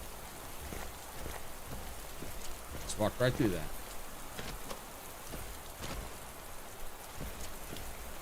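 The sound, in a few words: rain falling in a video game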